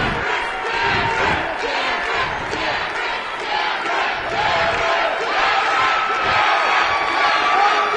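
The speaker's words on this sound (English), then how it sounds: "Crowd chanting for Cameron here." A crowd at a Dakota Fighting Championships MMA bout chants for fighter Cameron Ramberg in loud, rhythmic surges that fill the arena for several seconds.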